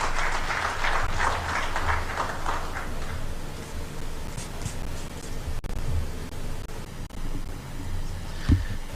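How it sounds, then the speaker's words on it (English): Audience applause after a speech at a national assembly event, a steady wash of clapping that fills the clip at moderate level and fades slightly toward the end. "Another round of applause to our chief guest,"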